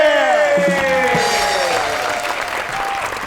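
A studio audience applauds a guest's entrance on a comedy talk show, a full burst of clapping with bright music overlaid that starts loud and eases slightly over a few seconds.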